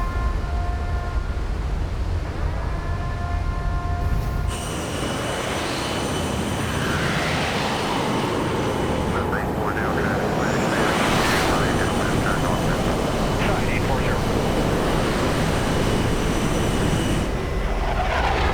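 Aircraft landing in the Front Mission 3 video game, a loud sustained engine roar with shifting tones and rushing noise that swells and changes over nearly twenty seconds.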